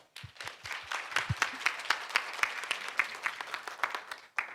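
At a Seoul conference, an audience welcomes a speaker with applause: scattered sharp claps at first, then a steady patter of clapping that cuts off near the end.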